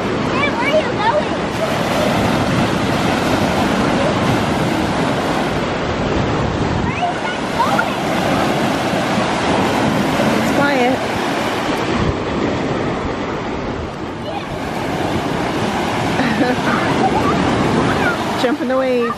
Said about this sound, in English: Jump in the waves.